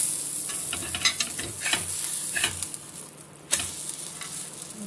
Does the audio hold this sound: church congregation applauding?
no